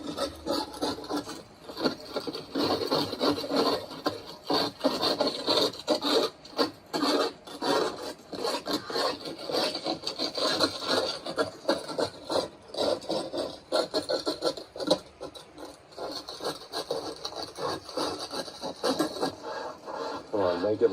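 Rasping scrub strokes against a blistered, moisture-damaged stucco house wall, repeated in a quick uneven rhythm, close and fairly loud, with voices talking over parts of it.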